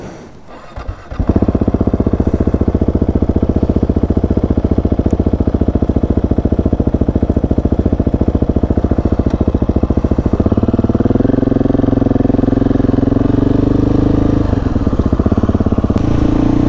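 A Husqvarna 701 Enduro single-cylinder motorcycle starts up and rides through city streets, its engine a loud, steady thumping close by, with pitch rising and falling as the rider works through the throttle.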